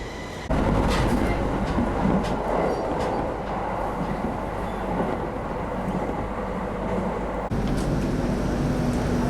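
A train rumbles steadily along the tracks from inside, heading to Kogota in Miyagi, Japan, a loud continuous roar with faint rhythmic clatter throughout.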